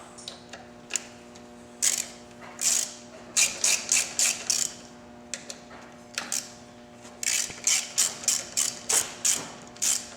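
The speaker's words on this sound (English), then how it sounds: "Before you loosen the axle, you have to loosen the pinch bolts. The pinch bolts are 6mm Allen. So just loosen them." A ratchet wrench loosens 6mm Allen pinch bolts on a motorcycle front fork, making quick series of sharp clicking strokes in irregular runs over a low steady hum.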